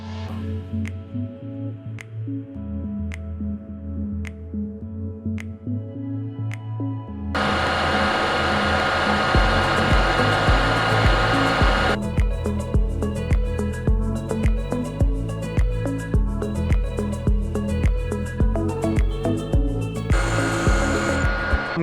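A metal lathe turning down an excavator track tensioner part to make it thinner, a steady loud machining whir with shifting cutting tones, cut in and out in several segments, no voices.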